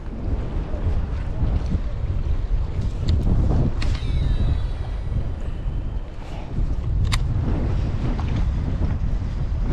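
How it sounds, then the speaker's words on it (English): Strong wind buffets the microphone on Lake Perris while a fishing boat sits in choppy, whitecapped water, a steady loud rumble with gusty swells and faint splashing throughout. "wind's going crazy right now"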